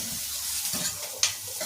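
Onions frying in a pan for saaru, a steady soft sizzle with stirring and a sharper clink or scrape partway through, heard up close with no talking.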